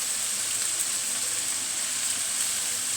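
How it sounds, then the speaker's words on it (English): Vegetables, fruits and nuts fry in hot oil for jeweled rice, giving a steady, even hiss and crackle at moderate level with no pauses and no talking. "Now that our vegetable fruits and nuts are cooking in the oil"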